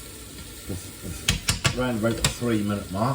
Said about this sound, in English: that's now been frying now